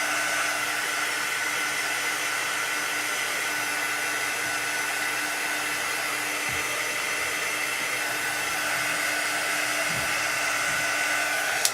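A hair dryer blows steadily and loudly at close range, drying chalk paint on a surface, its continuous airy whine holding unbroken throughout with faint knocks in the background.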